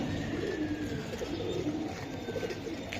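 A grizzle pigeon coos softly and repeatedly at close range, its low rolling calls steady over a constant background hiss, with no voices present.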